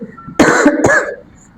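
A person with a cold clears their throat and coughs in two sharp, close bursts, loud against a quiet room.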